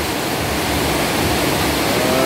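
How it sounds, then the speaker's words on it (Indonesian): Heavy rain pours down steadily at home, a dense, even broadband wash that holds constant and loud for the whole moment with no voices. "Kembali lagi hujannya semakin deras."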